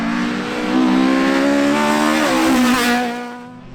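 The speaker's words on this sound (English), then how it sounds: "Eugene Clark's Millington powered Mark II is up to fourth place, and he can't utilise all that power here on the tight Nuts Corner track" A Millington-powered Mark II rally car races on the tight Nutts Corner track in a winter rally series, its engine loud and close, revving up through a gear change before fading away.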